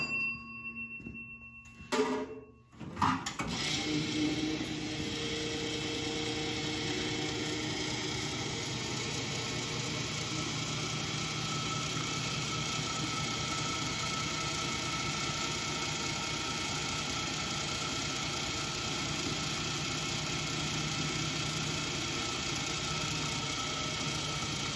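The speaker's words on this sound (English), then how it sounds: "we're ready to see if it's going to pump." A restored vintage gas station pump, plumbed with fittings on its suction line, starts after a few brief knocks and then runs as a steady, even mechanical drone for over twenty seconds with no talking.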